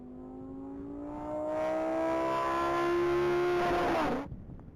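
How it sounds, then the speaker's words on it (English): A Lamborghini on a mile-long top-speed race track, its engine note climbing in a long smooth whine as it accelerates and holds speed, then cutting off abruptly, heard from a moderate distance with no voices. "that Lamborghini's on track and moving"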